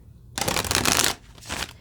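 A deck of tarot cards is shuffled in two quick riffling bursts, close and crisp, the first longer than the second, with no talking.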